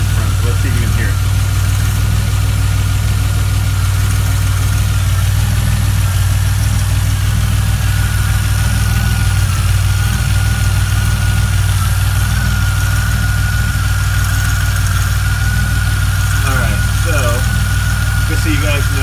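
A DeLorean engine runs at a loud, steady idle up close, with a deep rumble throughout. A small rattle from a lumpy-running engine could be buried in the noise, but it is not clearly picked out.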